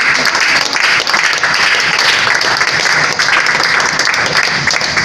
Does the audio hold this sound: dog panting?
no